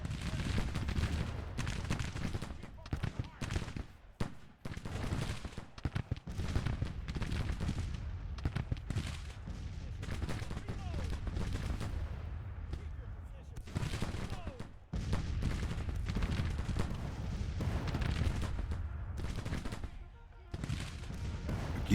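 Civil War battle gunfire from the Grand Tactician strategy game, a dense, continuous crackle of rifle fire and heavier booms that rolls on throughout, with a few brief lulls, mixed under commanders' talking.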